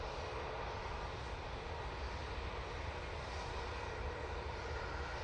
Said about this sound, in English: Oh, KLM's coming down here.